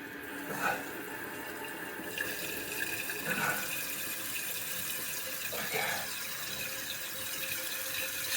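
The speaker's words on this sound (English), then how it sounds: "Put some water in it." A toilet tank refills after its leaking fill valve has been replaced, giving a steady rushing, hissing flow of well water that runs throughout, with brief faint sounds over it.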